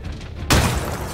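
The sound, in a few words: artillery salvo explosion in video game ArmA 3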